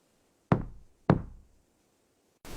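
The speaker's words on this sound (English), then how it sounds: "I knocked again." Two sharp knocks on a slightly open front door at night, sounding close and solid with a short decay each, separated by about half a second of silence.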